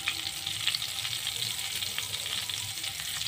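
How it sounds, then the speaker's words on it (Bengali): Oil and a little butter sizzle in a kadai with a steady, close frying hiss and occasional light pops throughout. "এবার আমি দিয়ে দিয়েছি কড়াইয়ে তেল, আর দিয়ে দেবো অল্প পরিমাণে বাটার"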